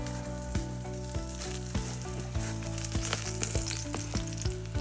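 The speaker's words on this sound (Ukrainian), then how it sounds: "перевертаємо та смажимо з іншої сторони" Food sizzles and crackles steadily in a hot pan, with small pops and the occasional scrape of a utensil, close up and no talking.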